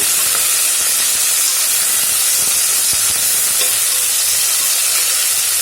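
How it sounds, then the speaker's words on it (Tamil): Onions and seasoning sauté in an oil-filled pan for veg biryani, a loud, continuous sizzling hiss with occasional stirring scrapes close up. "இப்போது அடுத்ததாக வெங்காயமும் ஆட் பண்ணிடலாம். இதை நல்லா வணக்கிக்கலாம்."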